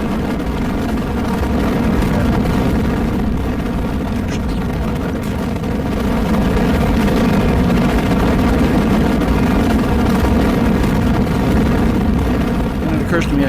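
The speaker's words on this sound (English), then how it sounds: "Stand by for liftoff" Rocket engines roaring at liftoff in Kerbal Space Program, a steady, loud, broadband rumble with heavy low end that holds for the whole stretch, swelling slightly midway.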